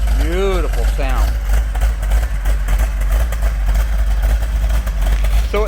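A 1970 Plymouth Cuda with a 440 six-barrel and a big lumpy cam idles loudly up close, a deep, choppy, loping rumble; a voice speaks briefly at the start.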